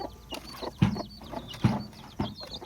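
Chickens cluck in short, repeated bursts close by, three louder clucks standing out over softer farmyard bird chatter.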